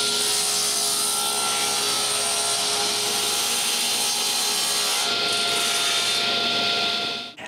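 A power saw cuts wooden bookshelf boards in one long, loud, steady run of grinding rasp that lasts about seven seconds, then cuts off abruptly at the end.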